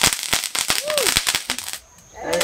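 A rapid string of sharp firecracker bangs pops close by at a São João festival celebration, with people talking over the blasts before the noise briefly drops away and picks up again.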